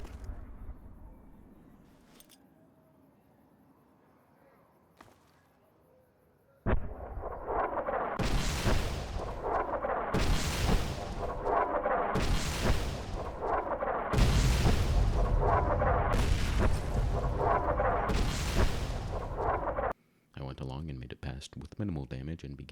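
Repeated artillery fire in the video game Fallout: New Vegas, heavy booms landing at regular intervals over several seconds, loud and close, following a quieter stretch and cutting off abruptly.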